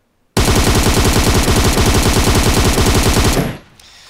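An M762 Beryl rifle in a video game empties a full magazine in one unbroken burst of rapid, loud automatic shots lasting about three seconds, then stops abruptly into near silence.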